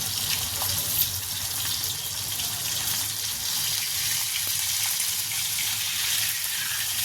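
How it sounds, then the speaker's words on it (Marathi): Pomfret coated in green masala paste frying in a pan makes a continuous, fairly loud hiss with no speech. "असे आपण सर्व पापलेट फ्राय करून घेऊया पटापट. पापलेट फ्राय करायला ठेवलं आहे बघा."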